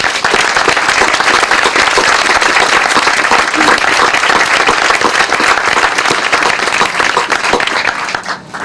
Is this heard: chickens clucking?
no